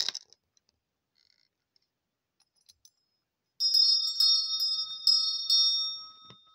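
A small handheld bell rung at the start of a spiritual guidance session gives a bright, sustained ringing chime after a quiet stretch, with several repeated strikes that shimmer and decay, close and clear with no talking.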